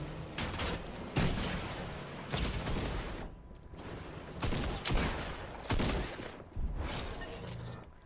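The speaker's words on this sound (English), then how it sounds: "Billy Bob over here shooting at me or something, right?" Repeated bursts of rapid video game gunfire, loud and close, each lasting about a second with brief gaps between them, with no voices.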